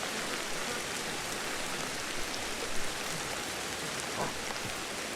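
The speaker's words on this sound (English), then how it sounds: "little shelter from the rain" Steady rain falls in Ancestors: The Humankind Odyssey, a dense, even hiss of drops that stays constant and fairly soft throughout with no voices.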